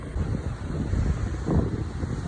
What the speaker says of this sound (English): That's the Pacific Ocean in the background.